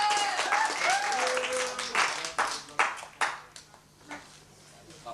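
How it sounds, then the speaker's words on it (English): Debate audience applauding after the motion's proposer is introduced, a dense patter of clapping that thins into scattered claps, with voices talking over it. "A round of applause, please"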